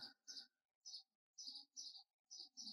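Bird-fight minigame in the video game It Takes Two: bright chirping bird calls come in short repeated bursts, about seven quick tweets with brief gaps between them, clear and close with no talk.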